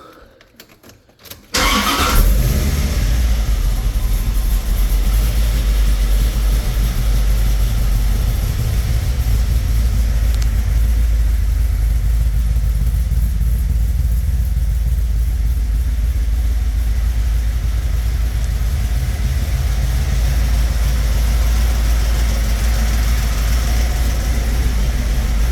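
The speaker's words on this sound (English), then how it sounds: "I can at least start the car for you." A 1995 Corvette engine cranks and catches after a second or two of near silence, then settles into a steady, loud, rumbling idle that holds without a break to the end.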